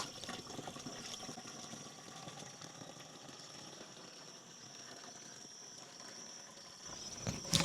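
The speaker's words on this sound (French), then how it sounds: "Donc, on introduit 10 litres d'eau." Ten litres of water poured into a basin to mix with a natural plant-growth preparation, a steady continuous rushing and splashing that holds evenly for several seconds and ends with a few louder knocks.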